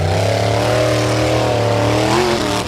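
A Big Block race car engine roars with nitro at a motorsport event in Jósepsdalur, a loud, sustained, rich harmonic growl that holds steady, then rises slightly as the revs climb near the end.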